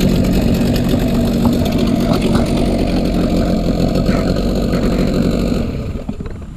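A Hangkai 12hp outboard boat engine idles close by, a steady, loud, even drone that eases off slightly in the last second.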